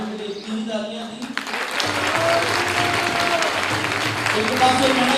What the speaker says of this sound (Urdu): کیا باتوں کے لیے اتنی ہی تالیاں تھیں؟